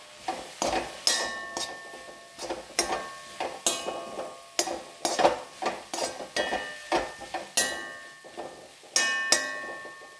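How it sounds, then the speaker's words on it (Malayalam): Malabar spinach thoran being stirred in a pan, with a spoon scraping and tapping the metal in a steady rhythm of about twenty strokes, close and fairly loud with no talk. "ഇനി നന്നായി ഇളക്കി കൊടുക്കാം."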